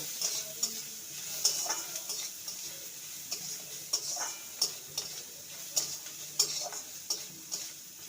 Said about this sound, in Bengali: পেঁয়াজটাকে ভেজে নিয়েছি হালকা তার সঙ্গে আদাও ভাজা হয়ে গেছে